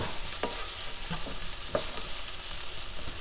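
Onions cooking in a pan with a steady, fairly loud sizzle throughout, marked by a few soft stirring scrapes at irregular intervals.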